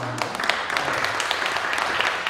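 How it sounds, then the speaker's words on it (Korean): A church congregation at a mission society's founding thanksgiving service claps together in steady, dense applause that fills the room throughout, with no talk on top. "박수 한번 치고"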